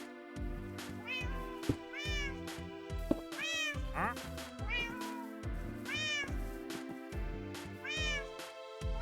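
A cat in Minecraft meows repeatedly, a string of loud, close, rising and falling calls over a steady blocky game music bed.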